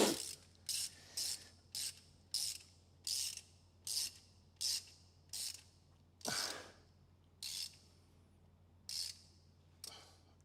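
A ratchet clicks in short repeated bursts, about a dozen quick strokes with brief pauses, as bolts on the hose outlet of a 1980 Ford XD Falcon 351 engine are tightened, close and clear over a faint steady hum.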